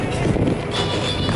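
Breezy outdoor wind buffets the microphone with steady low rumble and gusty roar through the whole short stretch, close and fairly loud, with no clear talk over it.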